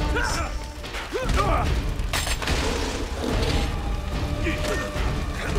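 Mechanical clicks and a ratcheting clack of a weapon being reloaded in Uncharted: Drake's Fortune, with busy game noise and a voice speaking over it.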